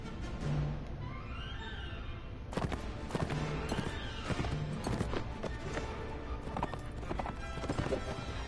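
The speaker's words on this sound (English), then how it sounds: "those horse feet are just way too much in my ear" Horse hooves clip-clop at a steady trotting rhythm, loud and close, amid Mount & Blade: Warband battle noise with intermittent impacts and a voice talking over it.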